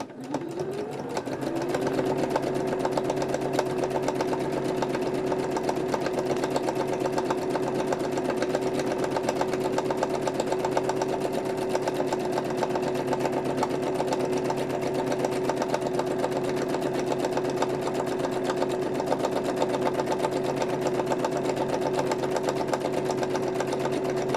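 A sewing machine runs continuously for over twenty seconds, stitching gardening journal covers. Its motor gives a steady whirring hum with a constant pitch, close and even, with no talking.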